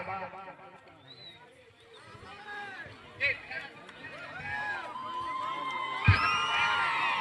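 At a jallikattu bull-taming event, a large outdoor crowd cheers and whoops, rising to a loud burst of shouting near the end, while an announcer talks over it.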